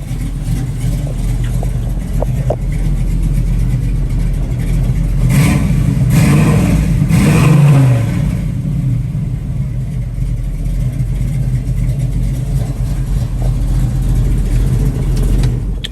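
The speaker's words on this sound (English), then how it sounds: "Let me give it a little bit more gas." A 1968 Chevrolet Camaro engine idles steadily and swells into a louder rev with more throttle around the middle, then settles back to a rumbling idle, close and continuous with no talking.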